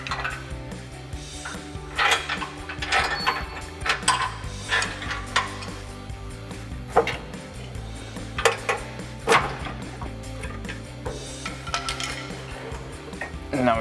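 Bolts come out and a turbo-back exhaust on a 2.7L EcoBoost Ford Bronco is pried down, with irregular metallic clanks, ratchet clicks and tool scrapes at close range under a steady background hum.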